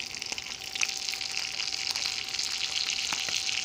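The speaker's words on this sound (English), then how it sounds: "the skillet's not big enough to cook all the patties at one time" Salisbury steak patties fry in grease in a skillet with a continuous crackling sizzle and scattered sharp pops, close and fairly loud, with no talk over it.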